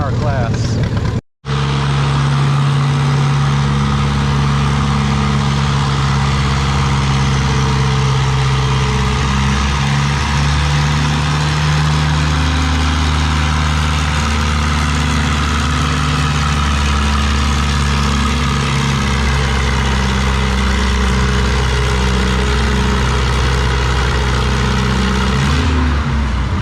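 Farmall tractor competing in a 4 mph class at a fall tractor pull, its engine droning steadily at a loud, even idle-to-pull pitch after a brief cut near the start, with an announcer talking over it.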